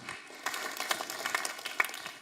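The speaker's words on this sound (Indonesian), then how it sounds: "Bapak Ibu, silakan tepuk tangan untuk anak kita Afikah" Audience applause for a child performer at a young preachers' competition, a modest burst of scattered clapping, fairly quiet and thin, lasting a couple of seconds with no talk over it.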